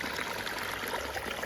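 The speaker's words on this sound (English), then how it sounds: "The waterfall is beautiful." A garden pond waterfall flows in a continuous, soft splashing stream, steady and unbroken over a brief stretch.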